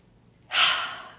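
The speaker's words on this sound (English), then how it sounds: "Deep breath in." A single deep inhale, close and breathy, rising sharply and tapering off in a quiet setting during a guided forgiveness meditation.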